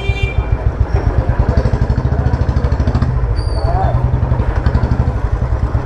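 A modified motorcycle with a manual decompressor and an RD handlebar fitted, engine running during a test ride, gives a loud, steady, rapid thumping beat throughout, with people talking over it.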